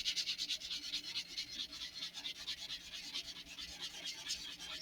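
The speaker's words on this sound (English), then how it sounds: "So I'm going to try to sand them off." Sandpaper rubs in circular motions over a glued seam on an Estes Great Goblin model rocket, a soft rhythmic scratching that repeats steadily and close by.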